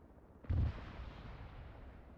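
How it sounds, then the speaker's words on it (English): A single distant explosion in the military shooter ArmA 3: a sudden low boom that fades into a long rumbling tail, with no voices. "That looks like an explosion."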